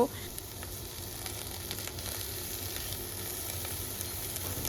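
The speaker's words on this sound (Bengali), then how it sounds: "সুন্দর করে রসুন ও পেঁয়াজটাকে ভেজে নিচ্ছি" Garlic, onion and dry chilli frying in mustard oil for a pumpkin leaf bhorta, a steady close sizzle with small pops, even and continuous throughout.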